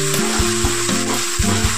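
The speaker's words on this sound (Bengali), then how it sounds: "এবার দিয়ে দেবো 1 টেবিল চামচ আদা রসুন পেস্ট।" Ginger-garlic paste fries in hot oil in a pan while a Bengali doi katla fish curry is being cooked: a steady, close sizzle with a few soft bumps, with no talking.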